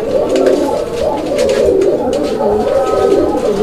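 Koka and Golla pigeons coo steadily and close by in a continuous low warbling murmur, with faint background noise from a busy setting.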